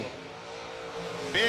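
A drag racing car launches off the line with a big wheel stand at a bracket racing event, its engine droning at a distance before a loud, sudden roar at the end, with an announcer talking over it.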